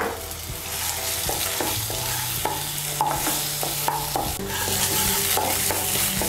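Spice paste with turmeric and coriander powder sizzles and fries in a pan while a spoon stirs and scrapes it, steady close frying with repeated stirring knocks.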